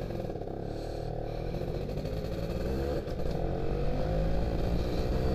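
A Yamaha F1ZR two-stroke moped-style motorcycle ridden along, its engine droning steadily and close with continuous rattly wind and road noise throughout.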